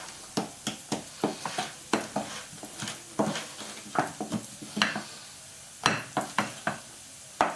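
Chocolate sponge-roll batter stirred in a bowl, a quick, regular series of wet scraping strokes, close and clear with no talking.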